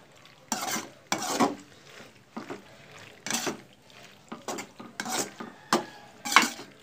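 A spoon scrapes and stirs macaroni pasta in a pan, about eight distinct rhythmic strokes with soft sizzling between them, close and clear with no talk.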